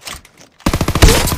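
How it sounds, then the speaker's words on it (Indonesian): Sniper rifle shots in Call of Duty Mobile battle royale, a quick, loud, close crack followed by rapid sharp bursts in the last second of a brief quiet moment. "Kita pakai sniper ini kayaknya."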